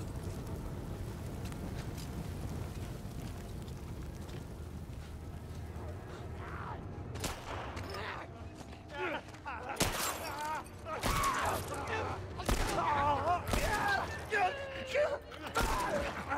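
Gunfire in The Last of Us Part 1, a series of loud, sharp shots cracking out at irregular intervals over a rumbling, noisy game backdrop, with a voice talking in between.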